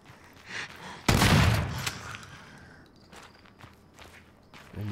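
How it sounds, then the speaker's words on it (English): Shotgun blasts in the survival horror game Daymare 1998, one loud close burst followed by fainter thuds and footstep-like movement sounds. "Right, I'm gonna use the shotgun"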